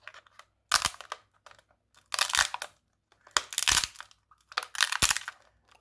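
A 3D-printed part is broken free in four separate bursts of crunching and cracking, each a loud, brittle crackle lasting under a second. The bursts are divided by short quiet gaps and come up close with no talking.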